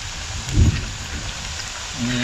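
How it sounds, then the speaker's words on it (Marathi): Dense, steady heavy rain hissing close by, with a brief low thump near the start and a faint tonal hum toward the end. "पाऊस एवढा जोरात वाचतोय ना"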